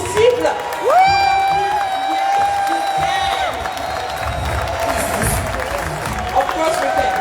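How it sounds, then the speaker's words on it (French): A large crowd at the Zénith de Paris cheers and applauds, with loud whoops and whistles over dense clapping, sustained and close-sounding throughout. "j'aimerais que vous applaudissiez pour eux et que vous leur envoyiez toutes les"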